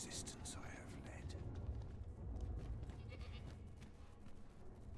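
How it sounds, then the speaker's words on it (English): Goat bleating inside the video game Dragon's Dogma 2, heard through a dense, busy mix of game sound with people talking over it. "It's a goat!"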